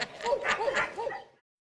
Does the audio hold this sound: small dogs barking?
yes